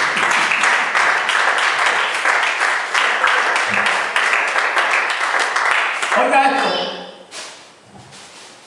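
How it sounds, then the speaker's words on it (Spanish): A congregation at a church service claps steadily in a loud, dense burst that fades out after several seconds, with a few scattered claps trailing afterward. "Le doy un aplauso a Cristo conmigo."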